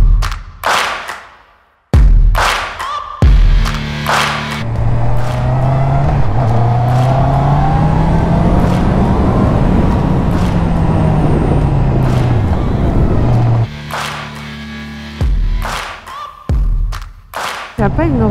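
Honda CB650R motorcycle engine revving while riding, a loud sustained drone that rises and falls in pitch across the middle, with brief gear-change dips and louder bursts near the start and end.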